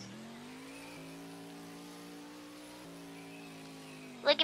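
A car engine in the Roblox game Car Crash System drones at a steady pitch, stepping up in revs twice, before a couple of sharp louder bursts right at the end.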